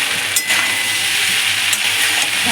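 Pasta in tomato sauce being stirred in a pan, a steady broadband frying sizzle with soft scraping of the spoon and a few faint clinks, close and continuous with no talking.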